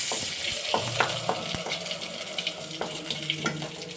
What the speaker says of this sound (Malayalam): കരിയാപ്പല ഇട്ടിട്ട് ഒന്ന് ഇളക്കി കൊടുക്കുക.